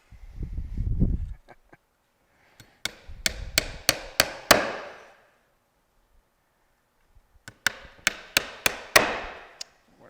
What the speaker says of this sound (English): Start at one end. Get your nail started.